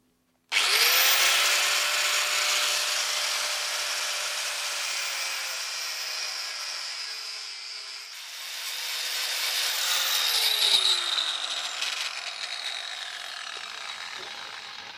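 A power tool slices through the metal seat rail supports in a kit car floor, a loud, continuous high-pitched grinding whine that holds steady, dips briefly midway, then resumes cutting close up.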